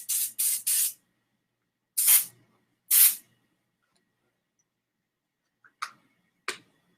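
Odor eliminator sprayed in short squirts: three quick hissing bursts, two longer ones, then two brief faint puffs, each crisp and close against silence.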